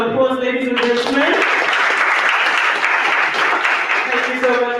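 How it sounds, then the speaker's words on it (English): Conference audience applauding, a dense, steady wash of clapping that fills the room, with tonal music or voice faintly audible at the start and end. "Another round of applause, ladies and gentlemen."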